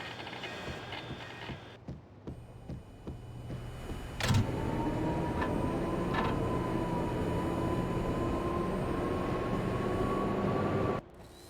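A subway train in the Max Payne game, first a series of sharp clanks and knocks, then a loud jolt as it powers up into a sustained electric whine and rumble that cuts off abruptly near the end.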